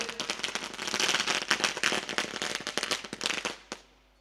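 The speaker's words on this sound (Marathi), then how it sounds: "पहा खरं तर फटाक्याच्या आतिषबाजीनं आपण मान्यवरांचा शुभ सन्मान पाहतोय." Firecrackers burst in a rapid, dense string of sharp pops and crackles, loud and continuous, ending with a final bang and silence.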